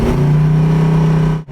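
Carbureted big-cam V8 with headers in a 1972 Dodge Dart Swinger cruising down the road, a loud, steady droning exhaust note that cuts out sharply right at the end.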